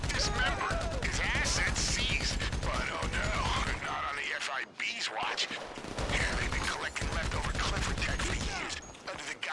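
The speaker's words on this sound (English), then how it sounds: "Somebody else is shooting." Gunfire in the video game GTA Online: loud, rapid bursts of automatic shots with mechanical clatter, pausing briefly mid-way before resuming hard, with voices now and then.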